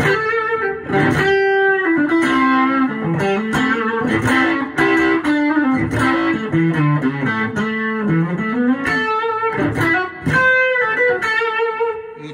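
Electric guitar played through a Milkman Sound The Amp pedal amplifier with mild, warm distortion, a melodic line of sustained notes and phrases played solo and clearly.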